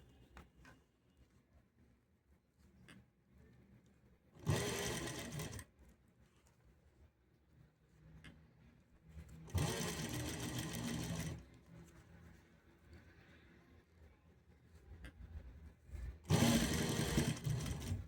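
A sewing machine stitches a piping strip onto a blouse in three loud, steady whirring runs of a couple of seconds each, separated by quiet pauses with faint handling clicks.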